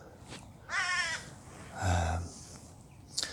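A few harsh crow caws ring out in short bursts, fairly close, with quiet gaps between them and no talking.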